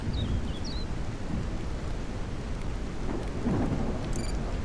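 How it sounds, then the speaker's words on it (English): A thunderstorm in the survival game Mist Survival: a steady wash of heavy rain with a deep, rolling rumble of thunder underneath and a few faint bird chirps, with no voices. "we've got rain coming in"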